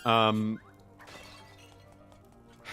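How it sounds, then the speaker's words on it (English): Pot shattering in The Legend of Zelda: Link's Awakening, a single short breaking crash near the start followed by a quieter stretch, with someone talking. "That's also a very default ass pot shattering sound."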